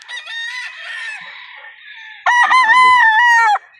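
Roosters at a game farm crow loudly and close by: one long, wavering crow followed by a second strong crow, with faint clucking under the first call and no talking.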